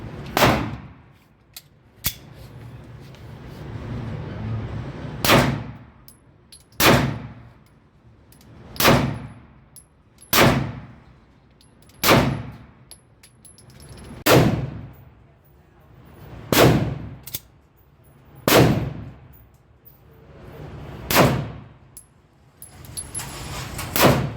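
Shots from a Shadow Systems MR920L pistol fired one at a time at a slow, fairly even pace, about a dozen sharp loud reports each trailing off with a short echo.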